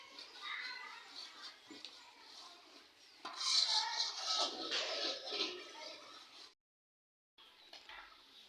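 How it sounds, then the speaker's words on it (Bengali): Meat being stirred and fried in a cooking pot at an outdoor primary school picnic: metal scraping and clattering against the pot in repeated strokes, louder in the middle, with children's voices and chatter around it and a short pause near the end. "এখন আমার খোকন ভাই মাংস কষণে যুদ্ধ শুরু করে দিয়েছে"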